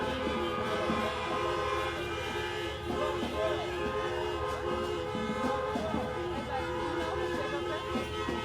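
Vehicle horns blare during a street protest in Seattle, long overlapping tones sounding near and fairly loud over a busy city background, with people talking throughout.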